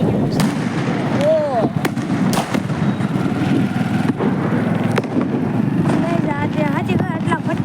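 Firecrackers burst in scattered sharp cracks and pops, some near and some farther off, over a noisy village street with traffic, while people talk nearby.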